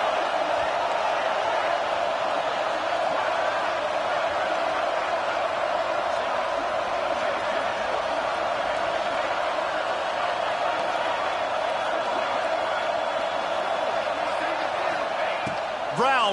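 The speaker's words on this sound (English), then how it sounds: "Decibels rising as the crowd gets behind this defense on 3rd down." A packed college football stadium crowd at a BYU versus Utes game roars loudly and continuously as fans rally behind the defense on third down.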